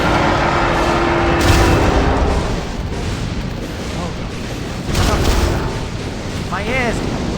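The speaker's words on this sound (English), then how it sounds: "Let's get the autocannon going." An autocannon fires in Skyrim in loud, sustained heavy bursts that swell and ease over a constant roar. There are brief quieter dips between the volleys and a few whistling streaks near the end.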